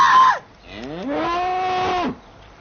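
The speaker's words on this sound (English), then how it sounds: "Only a cow." A cow lets out a single loud, drawn-out moo nearby in the countryside. It rises from a low groan into a sustained bellow and then breaks off abruptly, following a brief higher call just before it.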